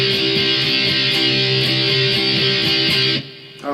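Distorted electric guitar plays the second part of the intro to a song, a sustained chugging riff repeated twice with a steady pulse, loud and alone, cutting off near the end.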